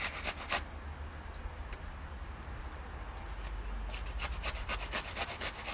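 Fruit is grated by hand into a boozy dessert mixture, giving a steady, close rasping scrape with regular back-and-forth strokes throughout.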